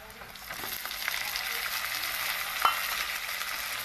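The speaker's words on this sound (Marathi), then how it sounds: "चला आता मस्त आपण टमाटर घेऊ टाकून." Tomatoes tip into a hot frying pan with green chilli, garlic and ginger while spices are added for an aloo gobi, setting off a steady close sizzle and stirring with one sharper clink.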